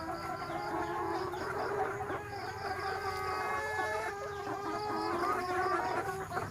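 Old chickens at a small Thai farm garden cluck continuously up close, while a rooster's drawn-out crow rises over the flock, steady outdoor ambience beneath.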